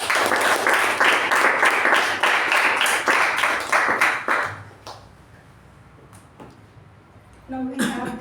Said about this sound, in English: a big round of applause to the speaker and the evaluator